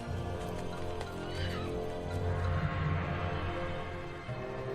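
A horse neighing sound effect rises out of a dense, continuous background, the whinny swelling briefly in the middle before fading back into the steady wash of sound.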